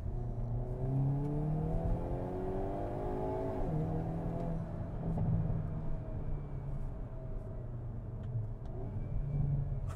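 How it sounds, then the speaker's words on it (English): A 2022 Hyundai Kona N four-cylinder engine in N mode revs up and settles repeatedly, its loud droning tone climbing and falling, with a few sharp crackles and pops from the exhaust. "It crackles and pops like a rally car."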